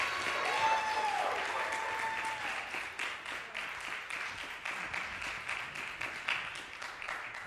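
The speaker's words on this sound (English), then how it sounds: "How about another round of applause for Gunnery Sergeant Hiram Diaz?" Audience applause at a 2024 historical showcase concert, a sustained wash of many hands clapping that starts full and slowly thins out, with a brief faint whistle-like tone early on.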